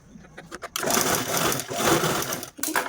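A sewing machine stitches fabric for a Sankranti haldi-kumkum gift craft, its rapid mechanical whirr running in two close, steady bursts with a brief pause between.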